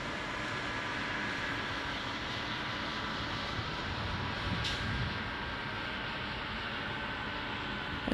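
A United airliner arriving from Tokyo Haneda lands at Chicago O'Hare, heard as a steady distant jet roar that holds evenly throughout with no voices.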